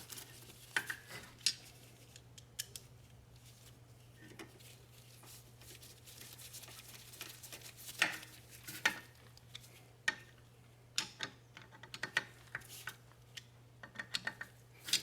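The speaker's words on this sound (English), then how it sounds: "now we're gonna install these little screws that hold the brake rotor down" Small retaining screws are fitted to hold the rear brake rotor on a Honda CR-V during a wheel bearing replacement. Sparse metallic clicks and ticks grow busier toward the end over a steady low hum.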